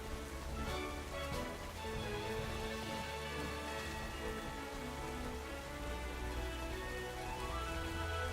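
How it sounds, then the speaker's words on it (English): Steady rain pattering on surfaces in the video game Pokemon Scarlet/Violet, an even, constant hiss of drops that continues unbroken throughout, moderately quiet, with no speech. "It's a shame it's raining, though."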